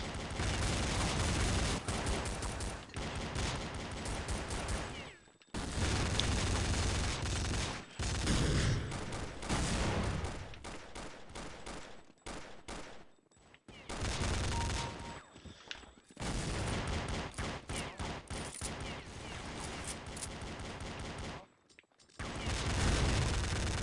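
Beretta pistols firing in Counter-Strike: Condition Zero, loud rapid bursts of gunfire in dense runs with brief silent gaps between volleys.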